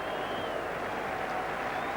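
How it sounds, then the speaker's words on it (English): Cricket crowd applauding at a Lord's Test match between England and Australia in 1985, a steady, dense wash of clapping filling the whole stretch at moderate level, with a commentator's voice faintly present. "An applause for both of them"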